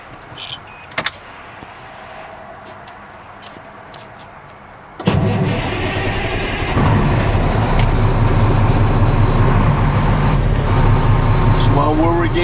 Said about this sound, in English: You'll tell him you're turning on your truck to regain air for your air brake test.